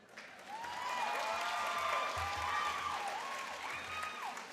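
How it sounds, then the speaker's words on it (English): Audience applause and cheers fill a hall at an evening event, a steady roar of clapping with whoops and a shouted voice rising above it, sustained for several seconds. "I know you're all cheering for me."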